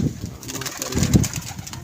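Pigeons in a pigeon club loft coo in soft, low, repeated bursts close by, with a louder coo near the end and faint background rustling.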